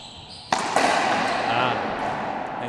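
A racquetball kill shot cracks sharply off the front wall during a men's singles championship match, one loud close impact followed by a second hit, over a steady crowd murmur and commentary.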